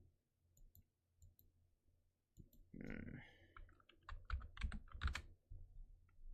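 Several sharp computer mouse clicks in quick succession, close and moderately loud, with soft keyboard-like tapping and some low background noise; no speech.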